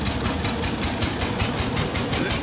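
A 1902 single-cylinder 1600 cc antique car engine runs in first gear at a vintage car show, chugging in a steady, rapid rhythm of evenly spaced beats, loud and close throughout with no voices.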